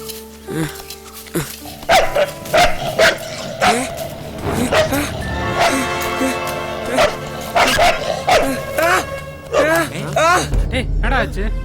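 Repeated dog barks and yips ring out loudly through the clip, mixed with excited voices talking and shouting.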